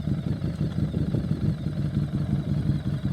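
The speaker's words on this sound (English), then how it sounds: "so you can hear your revs and stuff like that and how your bike sounds when I do it" A motorcycle engine idles in neutral with a steady, even low throb that holds close and loud throughout, without any revving or voices.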